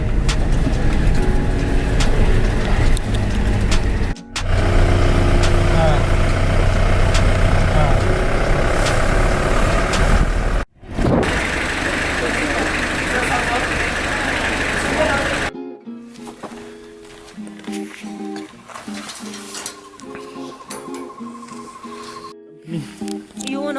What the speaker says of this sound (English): So we are on the jeep to Lady.